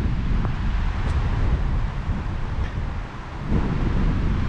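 Steady, loud wind roars across an open outdoor spot on a trip in Sweden, buffeting the microphone without a break for the whole stretch; nobody speaks.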